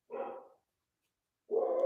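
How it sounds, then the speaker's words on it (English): Two short dog barks with a pause of about a second between them, fairly clear against a quiet indoor background during a knitting session. "I'm really sorry if you can hear my dog in the background."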